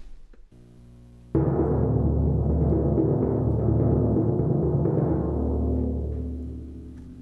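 A slow timpani roll on D, played on a 32-inch drum, starts suddenly and rumbles deep and full at close range for several seconds, then tapers off gradually at the end with no talking.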